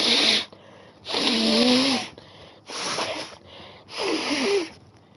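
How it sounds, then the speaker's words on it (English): Three loud, wet honking nose blows close to the microphone, each about a second long with short breaths in between. "Sorry, guys, just had to blow my nose."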